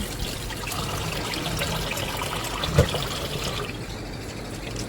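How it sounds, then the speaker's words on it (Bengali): Rice being washed in a bowl of water, with steady close sloshing and trickling water throughout and one brief knock partway through. "এক বাটি চাল ভালো করে ধুয়ে জলে"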